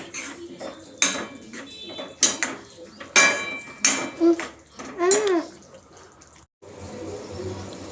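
Cauliflower sabzi being mixed with crushed peanut powder and coconut in a pan: a series of close metal spoon scrapes and clanks against the pan in uneven strokes, with a short pause near the end.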